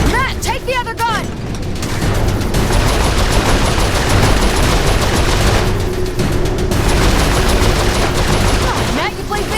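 Turret gunfire in Saints Row IV video game, a loud continuous barrage of rapid shots with booming impacts sustained throughout, with brief voices and whooshing effects near the start.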